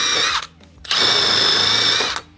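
Handheld drill spinning a Scotch-Brite style abrasive disc over car wheel hub studs, a loud high whine in two bursts, a short one then a longer two-second run, with a brief lull between.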